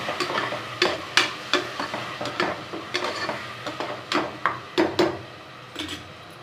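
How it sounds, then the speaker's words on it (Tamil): Yogurt and mint being stirred into mutton biryani masala in a pot, with a string of close scraping and clattering ladle strokes over a soft sizzle from the pan. "இப்போ தயிர் ஊற்றிக்கலாம் நல்லா கிளறி விட்டுக்கலாம்"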